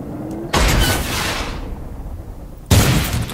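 Two booming bazooka or grenade explosions from the video game Worms, each a sudden loud blast with a rumbling decay, the second striking about two seconds after the first.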